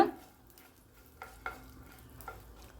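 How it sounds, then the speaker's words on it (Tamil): Mustard seeds, urad dal and a dried chili stirred in hot oil produce a faint, soft crackle, with a clink at the start and a few light spoon taps against the pan, and nobody speaking. "ஒரு டீஸ்பூன் அளவுக்கு நம்ம உளுந்து சேர்த்திக்கலாங்க அப்புறம் ஒரு காஞ்ச மிளகாய் கூட சேர்த்திக்கலாம் சேர்த்துட்டு லைட்டாக இந்த மாதிரி நம்ம கலந்து விட்டுக்கலாங்க"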